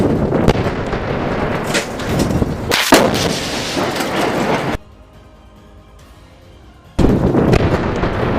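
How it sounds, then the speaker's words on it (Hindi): A rocket launcher fires at a building in a combat zone. Heavy, rumbling blasts and booming reports carry loudly. A short quiet stretch interrupts them before the roar returns. "2 लड़ाके रॉकेट लॉन्चर ले जाकर सामने की एक बिल्डिंग में तैनात आईडीएफ के सैनिकों पर रॉकेट फायर कर देते हैं"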